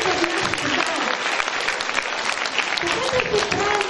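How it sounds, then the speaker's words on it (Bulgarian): Sustained applause from an audience at a school opening ceremony honouring the students, dense continuous clapping filling the whole stretch at steady loudness with no pauses. "Моля за аплодисменти за всички ученици"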